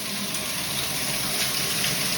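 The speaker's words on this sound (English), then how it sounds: "This thing dumps water." A country club locker-room shower pours a heavy, steady stream of water. The dense spray hisses and splashes without a break, loud and close, with no talking.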